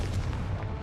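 Confringo explosive spell cast in the wizarding game Hogwarts Legacy, a loud, dense blast with deep rumbling energy that fills the whole brief moment.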